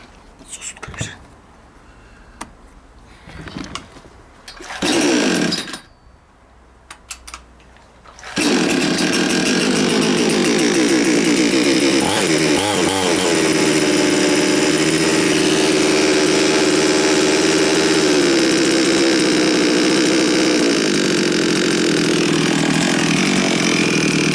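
A Chinese-made chainsaw, fresh from a clogged carburettor fault and still in break-in, is started: a few short pulls and sputters, then the engine catches and runs steadily and loudly with a buzzing drone that wavers in pitch.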